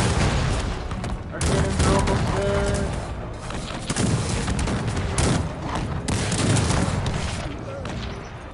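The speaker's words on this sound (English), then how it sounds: "Those multi-cannons are bad." Multi-cannons firing in the Cossacks 3 strategy game, a dense battle of repeated booming volleys and crackling gunfire that keeps going loud and close, with a voice talking over the fighting.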